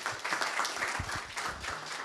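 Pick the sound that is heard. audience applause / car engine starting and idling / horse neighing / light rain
audience applause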